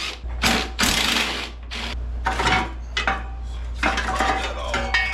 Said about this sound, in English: Now I got to take these bolts out.